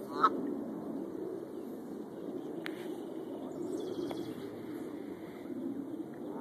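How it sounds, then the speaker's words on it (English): A mallard duck calls a few times from a distance outdoors, faint quacks over a low background rumble. "Mallard over there."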